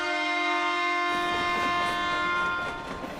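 A train horn blares with steady sustained tones over rolling rail noise, loud and close, holding for about three seconds before easing slightly at the end.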